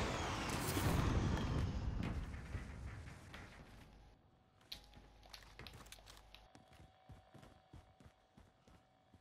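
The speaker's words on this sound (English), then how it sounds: "They're shooting their guns." Call of Duty gunfire opens with a loud, dense burst, then thins into scattered distant shots and light clicks.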